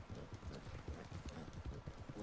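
Horse hooves clip-clop in a Wild West video game, a quick steady rhythm of close hoofbeats running throughout at low volume with no voices over it.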